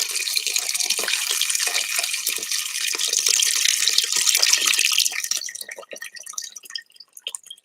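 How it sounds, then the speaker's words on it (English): Water poured into an Instant Pot of vegetable broth, a steady close splashing stream that tapers into sparse drips and trickles, with no talk. "We're gonna finish adding our water."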